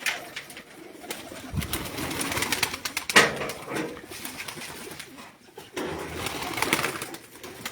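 Racing pigeons of a rooftop loft coo and shuffle at close range, a steady low murmur of calls with occasional wing flaps and a brief sharp clatter midway.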